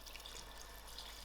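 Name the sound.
pouring 3 cups of hot water into pot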